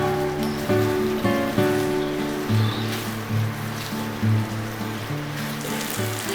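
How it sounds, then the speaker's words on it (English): Pink sauce pasta gravy simmers in a pan with a steady, crackling bubble throughout, while background music plays over it. "So we are going to cook till the gravy thickens up."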